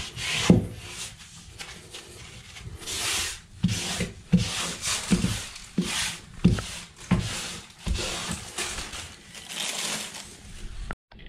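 Paper towel damp with hydrogen peroxide wiping along baseboard molding beside a toilet, a series of close rubbing and scrubbing strokes in an irregular rhythm, with no talking.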